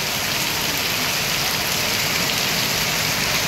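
A torrential monsoon downpour roars steadily and close by, a thick continuous wash of rain with no break.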